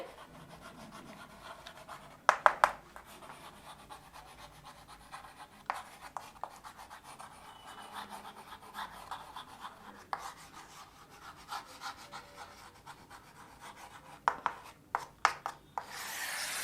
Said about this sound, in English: So first let me write the Euclid's division lemma